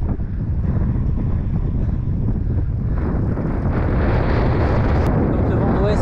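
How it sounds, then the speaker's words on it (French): Strong west wind buffets and roars steadily outdoors on a wild cycling route, a dense low rumble with gusting rising toward the end, no voices. "Donc le vent d'ouest se lève"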